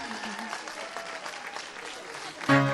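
An audience claps at a political event, the presentation of a local candidate list. Dense, sustained applause fills the space at an even level before a brief tonal sound cuts in near the end.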